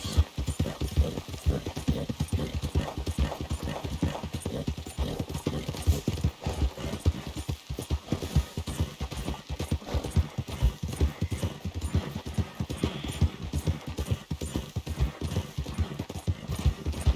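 A horse in Red Dead Redemption 2 clip-clops along in a steady, quick rhythm of hoof falls, continuous and moderately close, over faint ambient game background.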